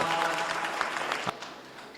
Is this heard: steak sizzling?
no